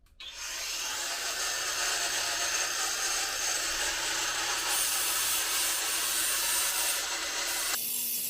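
Continuous close-up sanding of a wooden storage shelf in a van conversion, a steady abrasive rasp that starts abruptly and continues evenly without pause.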